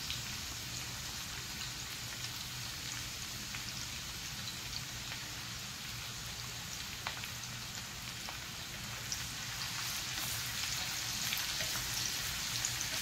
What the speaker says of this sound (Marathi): त्याच्यावर ठेचलेला लसूण घालणार आहे.